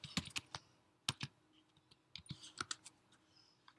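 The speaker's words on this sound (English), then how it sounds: "I'm too lazy to type the whole word kubectl or kubectl" Fingers typing kubectl commands on a computer keyboard: a quick irregular run of crisp key clicks in bursts with short pauses, close and fairly quiet, no voices.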